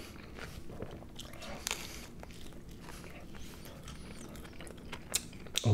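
A Taco Bell Crunchwrap being bitten and chewed up close, with a steady run of crisp crunching and softer chewing, punctuated by a few sharper crackles near the end.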